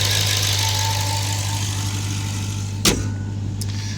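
A 2020 Jeep Grand Cherokee Trackhawk with an aftermarket cold air intake idles steadily close by under the hood, a constant low hum broken by a single brief click.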